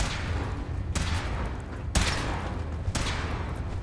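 Heavy weapon fire in Fallout 4 comes in three powerful bursts about a second apart, each a sharp loud crack trailing into a sustained roaring rumble, with no talk during the shots.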